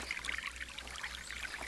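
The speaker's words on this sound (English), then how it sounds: "This mountain water is crystal clear." Crystal clear mountain stream water trickles and burbles steadily, a soft continuous babble with light splashy glints, heard alone without any voices.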